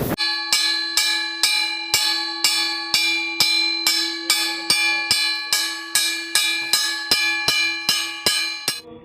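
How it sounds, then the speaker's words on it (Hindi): A single bell is struck at a steady, brisk rhythm, about twenty ringing strokes, each ring carrying into the next, loud and close, marking the work period at a gurukul school. "तो ये कार्य की घंटी है 8 से 9 तक"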